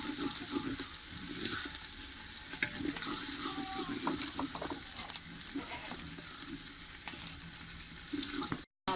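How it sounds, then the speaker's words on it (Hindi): Garlic paste frying in a pan for village-style saag, with a steady, close sizzle and crackle running throughout and occasional stirring clinks. "इसे थोड़ा सा फ्राई करेंगे।"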